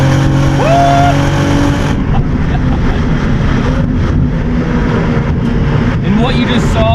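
Loud interior engine noise from a 2022 Cadillac CT4-V Blackwing with a six-speed manual on a winding road, with a sharp break near two seconds like a flat-out no-lift shift cutting ignition, then steady engine drone afterward.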